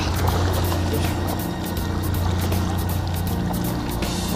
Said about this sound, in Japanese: やば引き波が来る引き波が